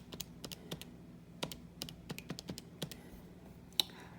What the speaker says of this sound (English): I'm going to type that in again. Make sure I typed everything in correctly.